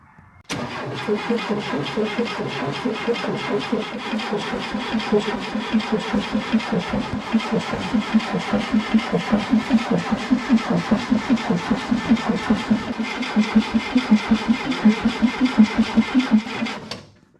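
A classic car engine cranks over on its starter with the coil wire disconnected so it cannot fire, a loud, even, rapid chugging rhythm sustained for about sixteen seconds before stopping abruptly.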